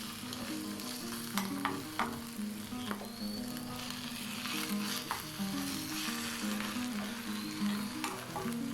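Chili paste frying in a pan while being stirred, a faint steady sizzle with intermittent scraping and tapping of a spoon, close and quiet, no voices.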